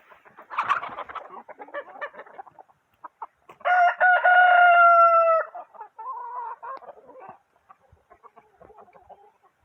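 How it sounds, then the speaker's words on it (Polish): A rooster with a congenital posture defect crows once, a loud strained cock-a-doodle-doo in the middle, set among softer clucks and chicken chatter before and after. "To kogut Mirek."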